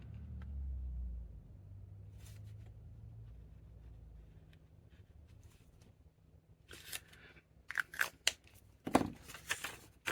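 Scissors snipping through paper for handmade labels, a cluster of crisp, close cuts and rustles near the end after a quiet stretch with a low background rumble.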